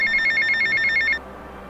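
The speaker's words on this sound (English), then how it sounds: "A phone?" A telephone rings inside the horror video game Myth of the Mountain, a rapid electronic trilling bell repeating for over a second, loud and clear over a low game ambience before cutting off.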